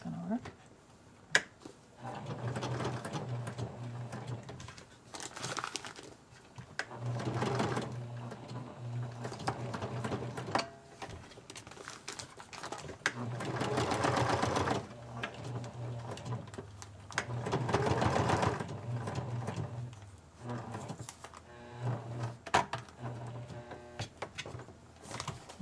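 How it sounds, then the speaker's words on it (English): A sewing machine runs a straight stitch through a paper-bag mini journal in short intermittent bursts of whirring, under and between close talk from a person. "Now I'm doing a straight stitch straight into the center of the leaf and back in again"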